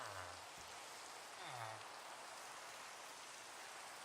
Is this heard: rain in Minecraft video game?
yes